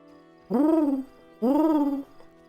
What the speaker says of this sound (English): I love the sound of an owl.